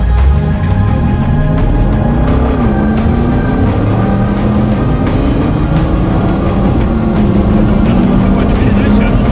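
Loud, steady roar of the engine in a Bentley Ultratank tracked all-terrain vehicle at full throttle, with a rising pitch that climbs, steps and climbs again through the gears, running continuously under intermittent speech.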